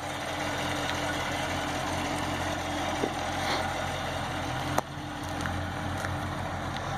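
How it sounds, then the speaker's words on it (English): A white 2016 Chevrolet Corvette Stingray with chrome rims, a rear spoiler and true dual exhaust idles at a dealership, giving a steady, low rumbling purr that holds constant throughout, with a couple of faint clicks and no talking. "True dual exhaust, you can just hear it purring right now."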